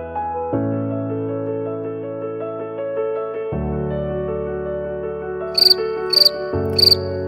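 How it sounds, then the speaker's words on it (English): Three short electronic cricket chirps from a prank card sound in a quick evenly spaced series near the end, over a steady droning musical tone that changes pitch. "you'll hear the cricket, and there's only one way to stop it"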